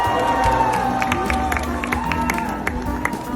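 Crowd at a university graduation ceremony in Guam cheers and claps continuously, a dense mid-distance wash of voices and applause with no clear speech on top.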